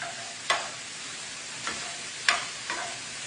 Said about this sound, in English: Now the andouille is going to cook a little bit faster than this sausage will. Make sure you break it up.